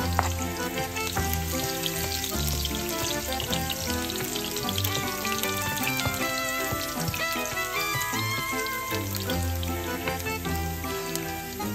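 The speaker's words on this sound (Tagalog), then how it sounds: "maglagay muna tayo ng mantika sa kawali guys. Ayan. Saka natin ilagay yung ating bawang." Garlic fries in cooking oil in a pan for ginisang upo with shrimp, giving a steady, dense sizzle with crackling pops throughout and no talking.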